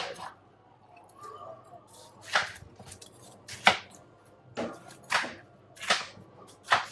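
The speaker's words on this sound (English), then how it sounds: "I prefer to chop some of my stuff up" Knife chopping watermelon on a cutting board in preparation for juicing, with about six sharp, evenly spaced cuts over a low background hum.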